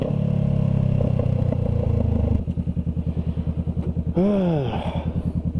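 Motorcycle engine nearby, a loud rough rumble that shifts into a rapid, rhythmic pulsing chug, with a brief rising whine and some rattling midway.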